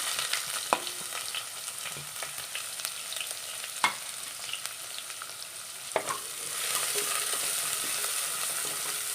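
Onion and ginger with fenugreek seeds sizzle steadily in hot coconut oil in a pan, with a few sharp clicks of a spoon stirring. The frying rises slightly toward the end and no one speaks.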